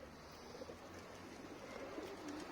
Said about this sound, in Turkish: Güzel, temiz bir kuş.